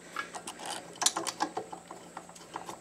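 Screws being run in with a ratchet on a Briggs & Stratton 5HP small engine: a quick series of light, close clicks and short ratcheting bursts in an uneven rhythm, with no talking.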